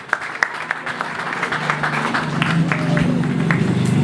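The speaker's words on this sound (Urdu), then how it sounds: "آئے زوردار تالیاں بجائے اس بات کے لیے." A church congregation at a Gospel of Mark study claps loudly: a few sharp, separate claps at first quickly swell into dense, steady applause that fills the room.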